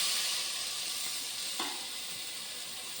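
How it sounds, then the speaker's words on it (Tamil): Tomatoes sauté in a hot pan for a vegetable biryani, giving a steady, loud, close sizzle with a brief stirring bump midway and no voices. "தக்காளி நல்லா வதங்கணும்"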